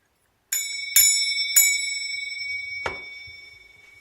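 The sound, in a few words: door bell being rung before entering a room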